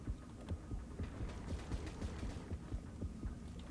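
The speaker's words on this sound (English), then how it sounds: "I can hear your heart beating." Rhythmic heartbeat in the underwater shark game Depth, a steady low throbbing pulse that thumps about every quarter second under a constant hum, with no talking.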